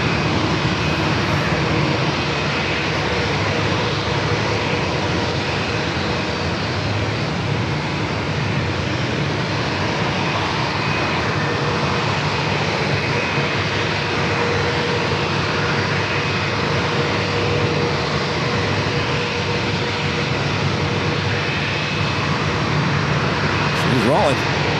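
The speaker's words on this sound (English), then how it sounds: "787-8 Dreamliner heading back to Tokyo to read out, lining up there 27, already cleared for takeoff." Boeing 787-8 Dreamliner lining up on runway 27 at San Diego airport for takeoff, with a loud, steady broadband engine roar that holds throughout, heard at a distance with wind-like noise and no clear talk.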